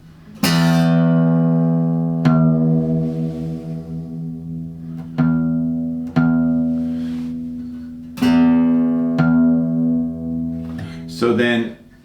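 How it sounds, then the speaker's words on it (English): Guitar strings ringing against a reference E while being tuned, the sustained harmonic tones beating and wavering slightly; several plucked notes are struck one after another, each decaying slowly, with fairly loud close sound and no talk. "Now you can hear that wavering pretty good"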